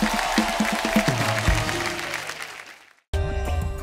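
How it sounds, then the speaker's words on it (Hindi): Studio audience of a comedy talk show applauding guests, a broad wash of clapping with musical tones underneath that fades to a brief silence before music resumes. "जोरदार तालियां हो जाए हमारे मेहमानों के लिए"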